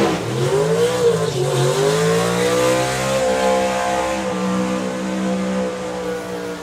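A drag race car at an FIA drag racing event performs a burnout, its engine roaring loud and close in a sustained, harmonic-rich scream that holds and wavers in pitch, with tire squeal mixed in.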